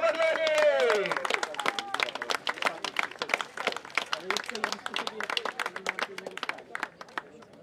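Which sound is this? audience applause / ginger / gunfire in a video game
audience applause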